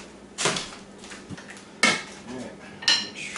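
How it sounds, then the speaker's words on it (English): A whisk knocks against a bowl while mixing a bacon spinach quiche filling and breaking up spinach, giving three sharp clanking bursts with quieter scraping between them, close by and with no talking. "I'm kind of trying to break that spinach up with the whisk while we're mixing it as well"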